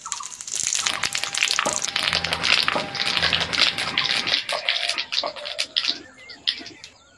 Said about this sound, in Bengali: ওই তেলের মধ্যে 5 ফোড়ন দিয়ে দেবো